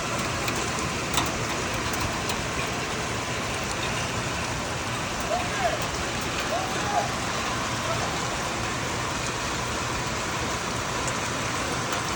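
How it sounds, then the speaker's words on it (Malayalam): Heavy rain falling outside a home, a steady dense hiss that continues unbroken, with faint traffic-like rumble beneath it. "അങ്ങനെ പുറത്ത് നല്ല മഴ പെയ്തുകൊണ്ടിരിക്കുകയാണല്ലോ"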